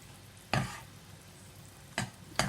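Almond and cashew powder stirred in a pan for a dry-fruit sweet, heard as three short scraping strokes against the pan over quiet background hiss, with no talking.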